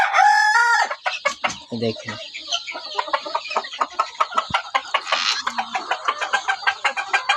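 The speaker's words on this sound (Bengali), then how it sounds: "এগুলো আমার পাহাড়ি মুরগি, দেশি পাহাড়ি মুরগি।" Native hill chickens on a farm cluck steadily in a rapid, repeated rhythm, with a rooster crowing briefly at the start; the birds sound close, and a voice speaks a single short word.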